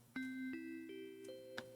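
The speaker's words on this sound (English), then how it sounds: "Ding dong." A descending multi-tone ding-dong chime in a visual novel, five bright sustained notes struck in steady succession and ringing over one another, clear and close with no voices.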